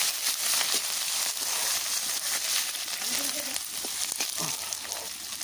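Onions, chilli and bay leaves fry in hot oil for a meat dish, a moderate continuous sizzle with a few utensil knocks, a voice speaking intermittently over it.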